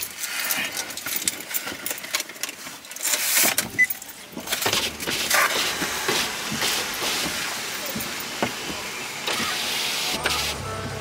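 Keys jangle and rattle inside a car while someone searches for them, irregular metallic clinks and shuffling close by, with faint voices and road or engine rumble underneath.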